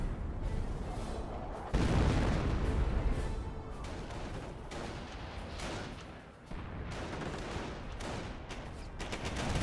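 Gunfire in Company of Heroes as German grenadiers fight an enemy flamethrower squad, rapid rifle and machine gun bursts mixed with booms, a loud sustained battle with a heavier blast near the start.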